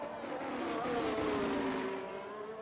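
Race car engine in a racing video game on a hot lap in Australia, a steady loud drone that rises and falls in pitch as it accelerates and shifts, continuous with no talk.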